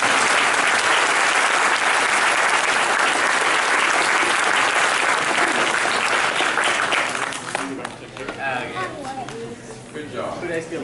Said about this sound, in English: Let's give a round of applause for me.